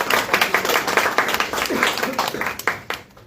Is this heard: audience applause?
yes